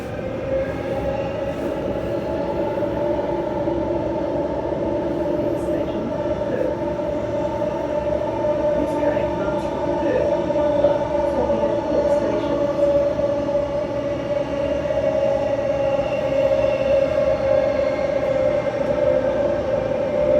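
A Transperth B-series electric train runs through the Perth underground, giving a continuous steady rumble and whine, with faint squeals and clicks on top throughout.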